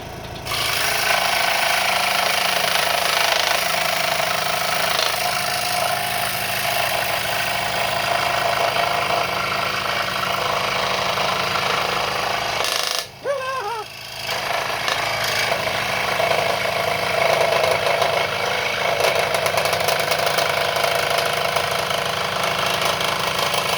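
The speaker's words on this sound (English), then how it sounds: "Now let's try to cut a circle out of this." A WEN 3921 scroll saw cuts a circle in wood, its blade buzzing and rasping steadily with a motor hum, briefly interrupted midway by a sharp jolt and stutter before resuming, all close and loud.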